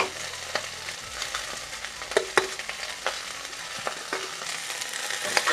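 Shredded cabbage and capsicum sizzle in a hot pan while a spoon stirs them, with steady frying crackle and scattered scraping taps close by.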